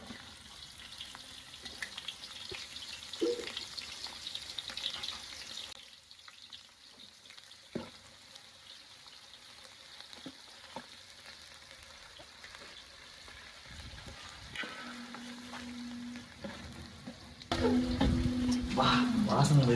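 Onions and masala frying in hot oil in a pan for chicken dum biryani, a low steady sizzle with occasional stirring clatter, growing louder and busier near the end.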